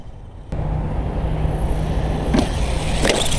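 An Arrma Voltage 2WD radio-controlled car running on LiPo power starts up with a sudden jump into a steady electric whine and rumble, driving over grass and curb outdoors, close and continuous.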